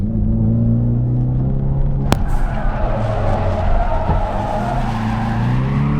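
A 4-cylinder Ford Mustang drifts with a loud, close engine drone, and its rear tires screech and skid across the pavement throughout. A sharp click or knock cuts in partway through.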